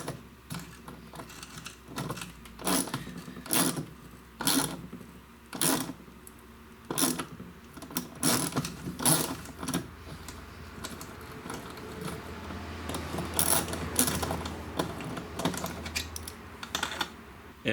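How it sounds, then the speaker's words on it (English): A hand thread tap cuts threads into a John Deere lawn tractor deck pulley shaft, giving repeated close clicking and ratcheting bursts in an uneven rhythm as the tap is worked in and backed off. "Sometimes if it gets really hard to tap it in, as I back off, go back, and then work my way back in."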